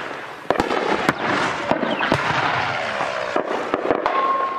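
Gunfire from soldiers in Donetsk: several sharp, loud cracks scattered irregularly over a dense rumbling background of distant shooting, with no voices.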